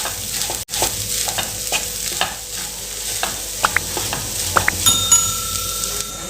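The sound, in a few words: stirring omelette and rice together in a pan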